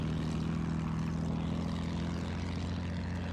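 An enemy propeller airplane from the World War I shooter Battlefield 1 drones steadily overhead, a continuous engine hum that stays fairly loud and even throughout without speech.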